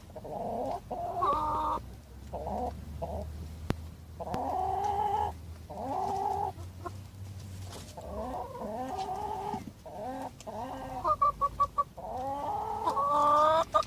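Several newly arrived hens on an organic allotment cluck and murmur close by in a steady, overlapping stream of throaty calls, with quick sharper bursts near the end and a faint low hum beneath.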